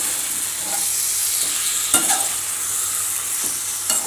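Chicken masala sautés in a pan with a continuous close sizzle, broken by a few sharp spatula scrapes and stirring clicks, with no voices.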